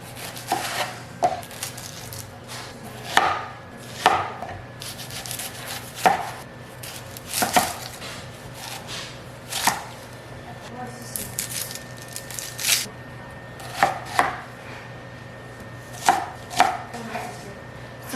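A knife chops onions on a cutting board, making irregular sharp thuds, some in quick pairs and others with short pauses between, over a low steady hum.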